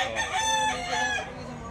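A white hackle gamefowl stag crows once nearby, a loud drawn-out call rising and then trailing off.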